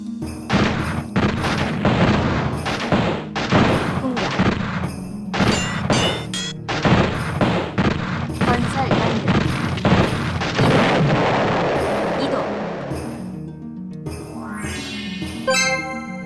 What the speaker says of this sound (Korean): 대포 은근 짜증나네